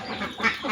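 Ducks quack close by in a brief burst of nasal calls as they are being fed, a short loud cluster of overlapping quacks.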